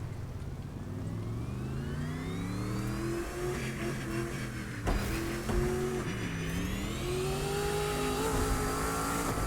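A car engine in the video game The Crew 2 revs with rising and falling pitch, climbing through gears with a brief shift dip midway, steady and fairly quiet throughout.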